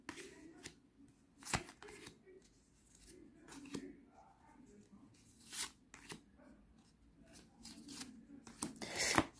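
Tarot cards are shuffled and dealt out into a pyramid spread close by, with quiet riffles, slaps and sliding as cards land on a table and faint background murmur.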